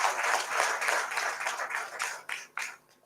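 Applause from an awards ceremony audience honoring the organizing committee, a dense wash of clapping that fades toward the end, leaving a few separate sharp claps.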